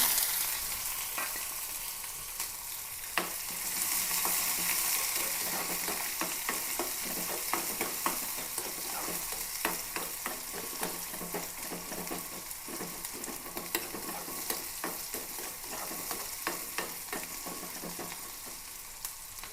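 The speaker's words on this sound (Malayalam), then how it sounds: "ഉള്ളിയും വെളുത്തുള്ളിയുമാണ് കൊടുക്കാം" Onion and garlic fry in hot oil in a pan, a steady close sizzle with frequent small crackles and stirring scrapes, continuing for the whole stretch without speech.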